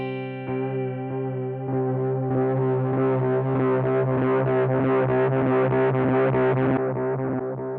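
Meris LVX delay pedal with regeneration turned up, a sustained harmonic guitar tone whose repeats stack and oscillate into a dense, swelling, slightly distorted wash before tailing off.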